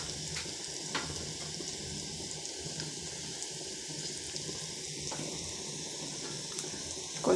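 Ginger garlic paste and kasuri methi frying in hot oil for an egg kofta curry, a quiet steady sizzle running throughout with a few faint stirring clicks, no voices.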